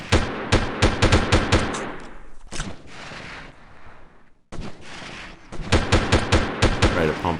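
Sustained machine gun fire in the Delta Force video game, in the snowy Novoya Zemlya mission, arrives as loud, rapid bursts of repeating shots, then breaks off into a quieter stretch before another long volley rattles on.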